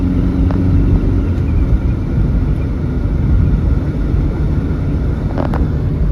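Inside a 1987 Plymouth Colt Vista 4WD with a manual gearbox on a daytime drive, a steady low engine and road drone rumbles on evenly, loud and close, with no talk.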